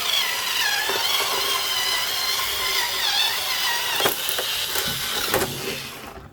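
Tough, hard plastic blister packaging of a Stanley six-piece comfort grip screwdriver set being cut and pried open, with continuous scraping and crinkling and a few sharp cracks and snaps near the end.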